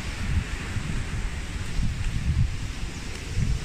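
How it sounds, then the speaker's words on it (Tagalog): Strong wind during Typhoon Rolly in 2020 roars as a steady, loud, gusting rush, with rustling, leaf-strewn street noise and no voices. "medyo malakas ang hampas ng hangin"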